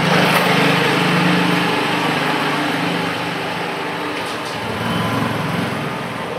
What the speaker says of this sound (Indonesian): Ini ada motor, kita berhenti dulu.